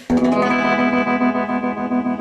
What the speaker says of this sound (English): So it's still tremolo, but it's a completely different type of wave.